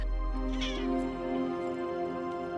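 A kitten meows in a drawn-out, wavering cry, fairly close and on its own over a low steady background hum.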